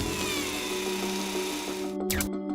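A Mars rover drill bores a 1.6 centimeter shaft into rock with a steady, loud mechanical whine and hum, which cuts off abruptly near the end, followed by a brief sharp burst.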